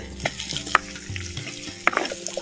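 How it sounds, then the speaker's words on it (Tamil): Peanuts being stirred and fried in a pan for a South Indian curry: a scraping spoon with sharp clinks against the pan over a soft sizzle, close up, with no talk. "சேர்த்த வேர்க்கடலையும் நல்லா கிண்டு கிண்டு நல்லா கிண்டி விட்டு"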